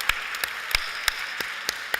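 At a gender-in-media event, a few faint, isolated hand claps sound at irregular intervals over a quiet room, thin and spaced apart rather than a full burst of applause.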